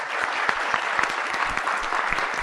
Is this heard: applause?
yes